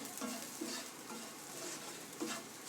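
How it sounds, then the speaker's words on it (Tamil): Ground peanuts being stirred into a sweet wheat-flour samosa filling in a pan, giving soft repeated scraping strokes with a faint sizzle underneath, close and quiet, with no talking. "இப்போ நம்ம அடித்து வச்சுருக்க வேர்க்கடலையும் நம்ம இதில் சேர்த்துடலாம் இப்போ இதே நல்லா ஒன்றா கலந்துட்டு"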